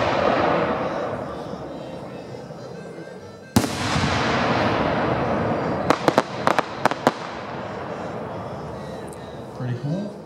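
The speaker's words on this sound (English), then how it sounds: "The first one is a 6-inch timed double layer salute ring." A 6-inch timed double layer salute ring firework shell: a loud sharp burst, then a rush of crackle and a quick ragged string of sharp reports near the end, with voices faint underneath.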